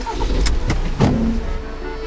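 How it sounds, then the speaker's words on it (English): A car engine rumbles nearby, with a brief mechanical whine and low thumps, steady throughout without speech. "I hear a car."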